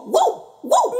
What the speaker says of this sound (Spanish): Bartolito, ¡eso es un perro!